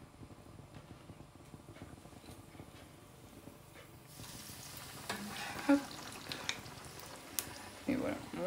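Ovos verdes fry in hot oil, a low sizzle swelling into a louder, crackling fry partway through, with a short spoken word over it.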